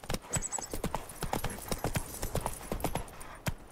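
Galloping hooves of the horse Roach in The Witcher 3 pound in a quick, steady rhythm of sharp clip-clop strikes, close and clear, with faint background game ambience.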